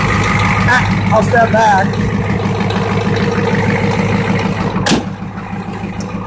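A Ford 7.3 IDI diesel truck engine idles with an open breather, a loud, rhythmic diesel clatter close by, while a person speaks briefly over it and the sound drops slightly toward the end.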